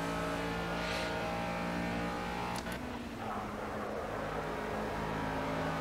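A race car engine in the video game Project Cars drones loudly and continuously at high revs, holding a steady whine with small pitch shifts through a corner.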